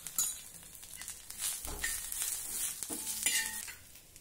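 Onion fries in oil in a pan, a soft, faint sizzle with scraping stirs and light crackles, no voices.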